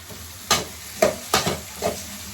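Tomatoes are stirred into sautéed onions in a cooking pan. Four or five distinct, close scraping strokes sound at a quick, uneven rhythm over a low background of frying.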